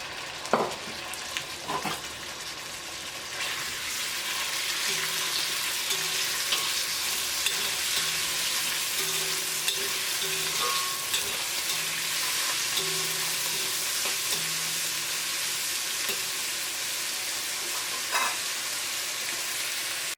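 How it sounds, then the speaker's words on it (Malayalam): Chicken pieces sizzle steadily in hot vegetable oil, a dense continuous crackle with occasional sharper pops and soft stirring scrapes throughout, close and fairly loud with no talking. "അപ്പോൾ ഓയിൽ നന്നായിട്ട് ചൂടായിട്ടുണ്ട്. ഇനി ഇതിലേക്ക് ചിക്കൻ ചേർക്കുക."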